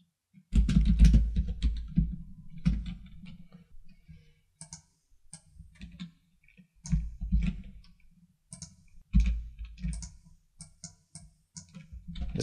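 Typing on a computer keyboard while coding a Unity game: clusters of close, crisp key clicks come in short bursts, separated by pauses, with occasional heavier thumps from keystrokes.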